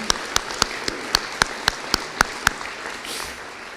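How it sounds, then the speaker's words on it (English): Scattered applause at a police services awards ceremony, heard as a series of about ten sharp, evenly spaced claps over a faint room hiss, fairly quiet and sparse rather than a full crowd. "Can we give them all a round of applause?"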